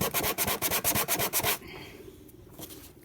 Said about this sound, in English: so now we've got those sanded